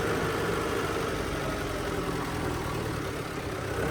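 A tractor engine idles steadily at a village workshop, a continuous low rumble with constant vibration, close and loud throughout, with no talking.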